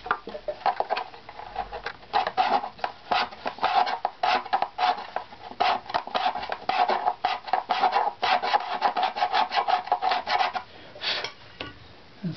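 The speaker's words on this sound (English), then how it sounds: "I'm going to go back and scrape some more on that side." A scraper works across the wooden back plate of a stringed instrument in a long series of quick, close, rasping strokes, steady and fairly loud, with brief pauses between bursts and no talking.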